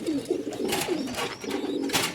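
Pigeons coo close by in soft, repeated throaty calls, with light rustling between them.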